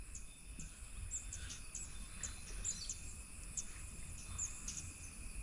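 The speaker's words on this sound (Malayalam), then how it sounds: "അതെല്ലാം കിളികളുടെ ശബ്ദങ്ങളാണ്" In the forest of Thattekad bird sanctuary, faint distant birds give scattered short chirps over a steady insect hum and quiet background.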